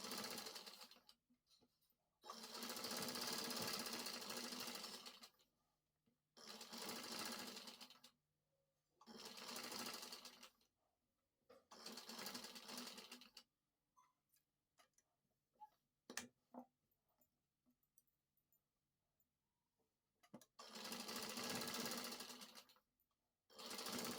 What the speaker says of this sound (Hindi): सिलाई चला दूंगी।